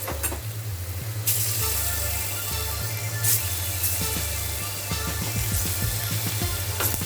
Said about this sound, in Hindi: तो पनीर को हम इसी तरह लाल करके फ्राई करके ले लेते हैं